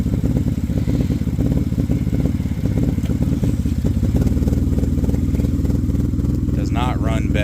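A car engine runs rough with its mass airflow sensor unplugged, a steady loud uneven idle with a lumpy, irregular pulse throughout, and a brief whirring rise near the end.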